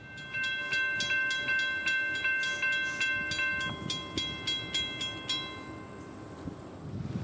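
A freight train moves slowly into a rail yard, shoved in reverse, with a steady, rhythmic clanking and a sustained high ringing tone, and the clanking thins out toward the end.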